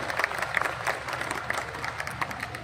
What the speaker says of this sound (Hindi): एक बार जोरदार तालियां बजा दो अपने किसान भाइयों के लिए